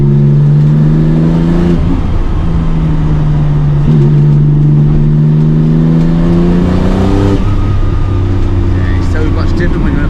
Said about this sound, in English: Yeah, turbo noises.